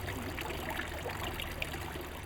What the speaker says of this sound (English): I can hear the fountains,